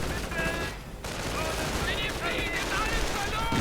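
Gunfire and artillery fill a WWII strategy video game battle with an anti-tank gun under fire: dense bursts of rifle and machine-gun shots crackle steadily, with a brief lull early on, and a commentator's voice runs faintly underneath.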